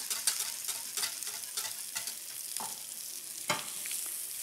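Pastrami spaghetti sauce sizzles and fries in a pan while being stirred, with steady close crackling and a few scraping strokes; someone speaks briefly.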